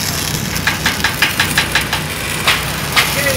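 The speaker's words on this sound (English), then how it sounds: "using our Lincoln welders, we're going to be welding those ribbons to the trusses" A Lincoln Ranger engine-driven welder runs steadily at a velodrome build site, a loud close engine drone with a regular knocking pulse throughout.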